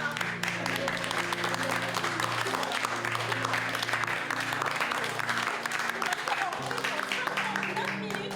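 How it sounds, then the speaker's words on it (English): Applause: a steady crowd of hands clapping with sustained tonal hum underneath, continuing at an even level throughout. "Moi, je vous applaudir."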